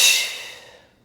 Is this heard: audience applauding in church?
no